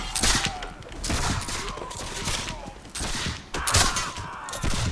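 Gunfire in the video game Mount & Blade: Ogniem i Mieczem during a multiplayer battle, with several loud shots cracking in quick succession amid the noise of the fight.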